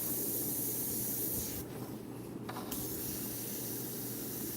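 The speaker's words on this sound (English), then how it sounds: "I'm going to dust the pink in on it and then bring the other color to it" An Iwata CM-SB airbrush spraying Createx illustration paint onto Claybord, a steady airy hiss with a brief stronger burst of spray in the middle, close and continuous.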